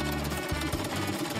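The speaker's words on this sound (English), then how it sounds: "Now let's sew up this hole." A cartoon sewing gadget stitching up a hole in a pair of underwear makes a loud, rapid mechanical rattle, an unbroken fast hammering buzz that lasts the whole moment.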